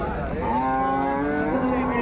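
A cow at a cattle market, where HF and Jersey cows are sold in Palamaner, lets out a long, deep moo nearby, a sustained low drawn-out call over faint background noise.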